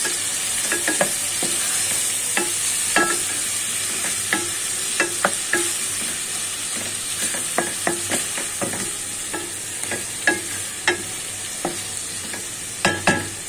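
Water lily stems fry in a pan with coconut paste and prawns, a steady sizzle running throughout while a utensil scrapes and taps the pan in scattered, sharp strokes, close and fairly loud, with no talking.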